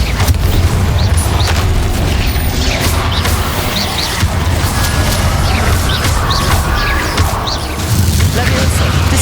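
Spell blasts and combat in the video game Hogwarts Legacy, with loud booming impacts and crashing bursts layered over continuous dense action noise, near and intense throughout.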